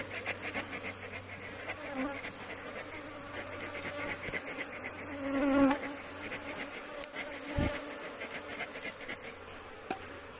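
Honeybees buzzing as they are brushed off a comb from a queenless hive, a continuous close droning hum with a few sharp knocks and handling sounds mixed in.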